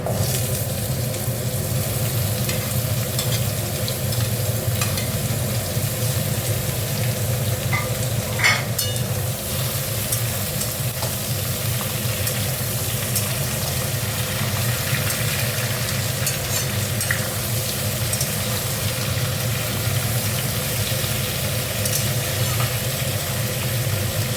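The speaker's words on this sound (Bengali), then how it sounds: "দেখো, এবার সবজিগুলো দিয়ে দিচ্ছি।" Vegetables fry with a constant sizzle while a spoon scrapes and stirs through the pan, no voices.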